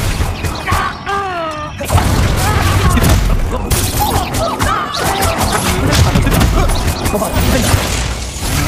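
Bombarda blasting-spell explosions in the video game Hogwarts Legacy: loud crashing blasts and rapid volleys of impacts come one after another amid busy combat effects, with a voice faintly present.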